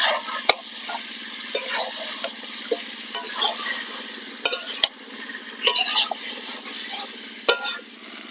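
Chicken being fried and stirred in a pan for chicken khichuri: a soft continuous sizzle broken by repeated scraping strokes and clinks of a spoon against the pot, close by, with no talk.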